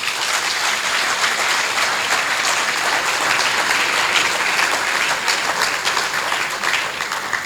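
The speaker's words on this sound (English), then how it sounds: "Shall we also thank him with a clap?" Audience at a university inaugural lecture in Ghana applauds steadily and fairly loudly throughout, a dense even clapping with no voices standing out.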